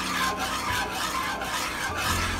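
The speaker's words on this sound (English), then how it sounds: "and whisk it together." Whisk scraping steadily around a pan of roux for a chicken noodle casserole, a continuous close rasping swish with a faint rhythmic pulse and no talking.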